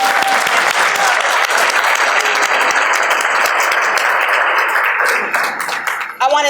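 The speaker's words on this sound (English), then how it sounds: "We can clap for that." Dinner guests at a city human relations commission diversity dinner burst into sustained, loud applause that fills the room and then fades out near the end.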